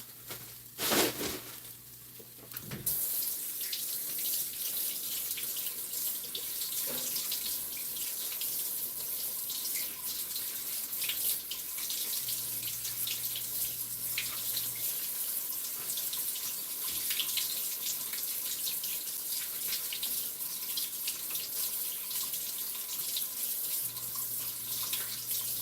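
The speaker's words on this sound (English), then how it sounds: "Just giving them a rinse." A kitchen tap runs steadily into a sink while ingredients are rinsed for chicken enchiladas, a continuous, even splashing flow lasting the whole stretch after a brief opening clatter, with no talking.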